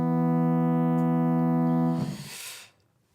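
A Serum synthesizer patch holds one steady, buzzy harmonic-rich tone for about two seconds, then releases into a short airy noise swell that fades out.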